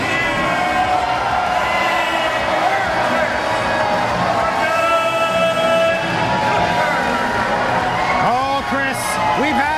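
A live lucha libre wrestling crowd roars continuously with cheering, whoops and shouting, a loud dense wall of voices that builds and holds, with a few sharp whistles and yells breaking out near the end.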